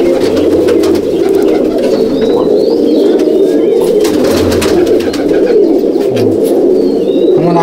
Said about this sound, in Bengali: আরও কিছু ব্রিডের পায়রা।